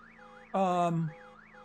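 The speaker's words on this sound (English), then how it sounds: "I guess I set off an alarm way back there" An alarm in the video game Vein gives one short, loud, harsh blare over a faint wavering siren that rises and falls in the background.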